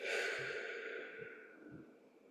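One long, soft exhale during a meditation session, close and airy, fading gradually over a couple of seconds.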